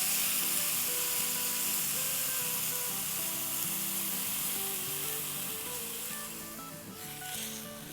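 Milk poured into a hot pan sizzles in a steady bright hiss that eases slightly toward the end, while tonal background music plays throughout.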